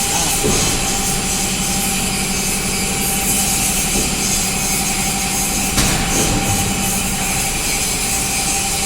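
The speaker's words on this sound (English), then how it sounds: "Now I introduce you the blade sharpener to you." A blade sharpener machine for a drum wood chipper runs with a loud continuous grinding, rasping drone and a steady hum, near and unbroken throughout.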